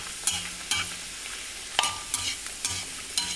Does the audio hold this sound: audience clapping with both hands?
no